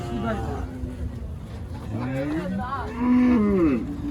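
Cattle at a livestock market in Pabna, Bangladesh, moo repeatedly in long low calls, one loud bellow near the end, over a steady crowd murmur and background talk.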